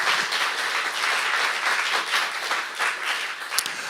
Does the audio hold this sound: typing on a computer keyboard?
no